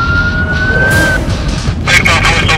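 A police car siren wails in traffic, a rising tone that cuts off and then returns as a warbling sweep, loud and close over heavy engine and road rumble.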